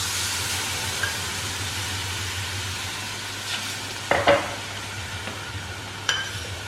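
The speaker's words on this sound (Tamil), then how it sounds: "ஸோ பால் ஊற்றி இதை நல்லா மிக்ஸ் பண்ணிடுங்க." Milk poured onto roasted rava in a pan for badusha dough, giving a steady steamy hiss and sizzle, then a few sharp scrapes and clinks of a spoon stirring near the end, close up with no voices.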